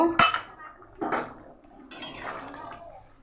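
Fried fish tipped from a dish into simmering okra curry in a pan: three short, close clattering scrapes of a utensil against metal, then quiet, with no talking.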